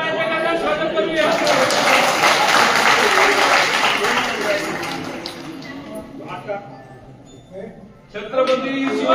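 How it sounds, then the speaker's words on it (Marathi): A crowd claps and applauds in welcome of a swami at a temple celebration, a dense wash of hands for several seconds that thins out, with voices mixed in. "स्वामी महाराजचा टाळ्या स्वागत करूया"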